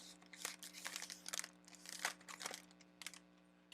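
Plastic-bagged cards and pieces from a Fury Football board game come out of their pouch with quiet, continuous crinkling and rustling, with several sharper crackles.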